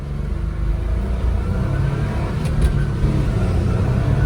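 A Mitsuoka Yuga accelerating on the road, with a steady, close engine rumble that builds slightly as it pulls through the gears, alone with no voices.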